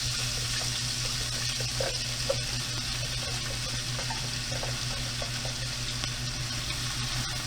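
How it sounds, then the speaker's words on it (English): Ginger, garlic and onion sauté over low heat in a pan for West African peanut stew, producing a soft, steady sizzle with faint scattered pops throughout. "we're sauteing our vegetables here until they're translucent"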